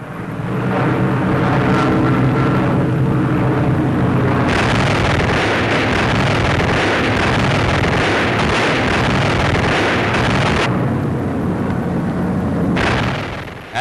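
Propeller aircraft strafing a Japanese invasion convoy at sea, a dense sustained roar of engines and rapid gunfire with heavy blasts, loud and continuous throughout.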